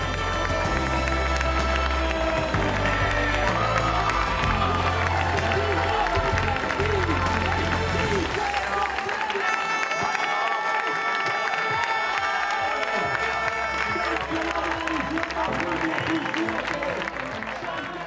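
A large crowd cheers, shouts and claps at an Ultra-Trail World Tour race finish line as a runner crosses, a loud, dense roar of voices that holds steady throughout.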